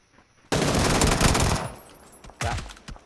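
Gunfire in a multiplayer shooter video game: a loud sustained automatic burst of about a second, then a shorter second burst, close and dominant with little else around it.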